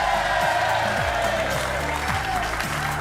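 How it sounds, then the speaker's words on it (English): Studio audience applause on a TV sports talk show, a steady wash of clapping with faint cheering over a low rhythmic music bed, fairly loud and continuous. "keep the applause going."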